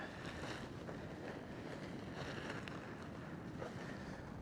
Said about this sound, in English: It's so windy out here today.